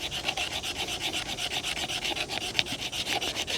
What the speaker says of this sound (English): See if we can scrape on it.